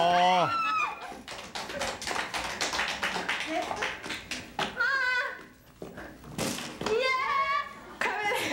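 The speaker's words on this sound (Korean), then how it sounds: "박수!" A studio audience on a Korean television variety show claps in quick bursts, mixed with excited voices and laughter that rise and fall over the clapping.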